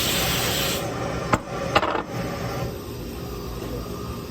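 A Le Cron carver scrapes dental plaster in a close, gritty scrape with a couple of sharp clicks midway, then softer steady rubbing fading toward the end, with no talking.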